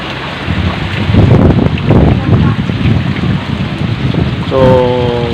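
Heavy rain and gusting wind in Sipalay during a typhoon, a loud continuous roar with surging gusts, and a brief tonal whine near the end.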